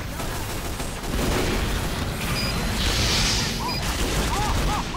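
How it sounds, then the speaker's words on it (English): Sentry turrets fire in Team Fortress 2, a dense, continuous rattle of gunfire with heavy low booms that swells after the first second and keeps up steadily to the end, with brief electronic chirps near the close. "Motherfucking turrets."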